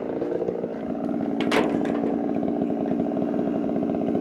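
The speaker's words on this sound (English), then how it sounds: "my saw idle and cool down for a little bit while I take things off" A Holzfforma G660 chainsaw idles nearby during a chainsaw milling job, a steady rough putter that keeps going throughout.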